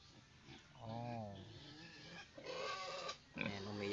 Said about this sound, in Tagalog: umiyak na naman yung isang baboy doon na lalaki guys